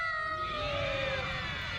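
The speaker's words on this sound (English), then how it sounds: "It meowed like this." Cat meowing in the anime Code Geass, a single drawn-out, tonal meow heard close and clear over a faint background, with no talk.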